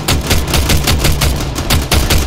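Rapid automatic gunfire in the military shooter Arma 3 during a large squad exercise, a loud, dense stream of close bursts with brief gaps, chattering continuously for a couple of seconds.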